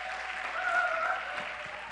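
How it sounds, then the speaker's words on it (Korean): A congregation at a church retreat evening service applauds in a hall, a soft, steady wash of clapping that holds evenly for a couple of seconds, with a faint tone sustained underneath. "박수 한번 주겠어요"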